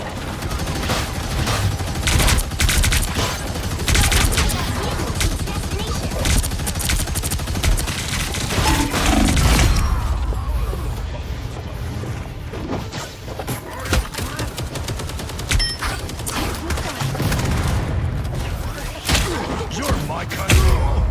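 Dense, sustained bursts of game gunfire and thudding impacts in a Marvel Rivals match, loud and continuous throughout, with a voice talking over parts of the firefight.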